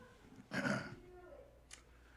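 A single short, rough throat clearing comes up close during a radio interview, followed by a faint brief sound and then quiet.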